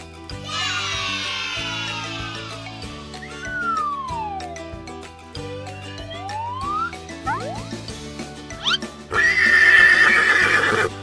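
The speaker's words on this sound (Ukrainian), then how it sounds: "Це кінь." A horse whinnies loudly over steady background music, followed by further animal calls and a burst of noisy sound near the end.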